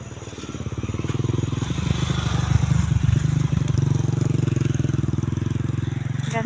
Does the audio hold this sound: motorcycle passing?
yes